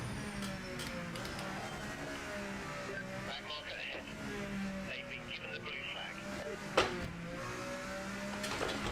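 Mazda MX-5 race car engine in a motor racing video game, a steady droning engine note with shifting pitch running throughout, one sharp click near the end, with voices talking over it.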